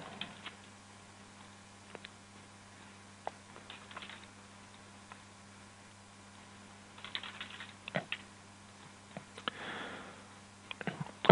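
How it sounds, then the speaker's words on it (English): Bursts of typing on a computer keyboard, soft and close, with short clusters of key taps separated by long quiet gaps and a faint steady hum underneath. "We'll type it in up top."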